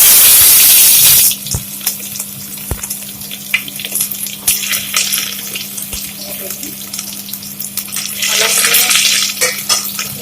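Finely chopped onions hit hot oil in a pan with a loud, rushing hiss that settles into a steady crackling sizzle. Utensil clicks and a constant low hum run underneath, and the sizzle swells loud again near the end.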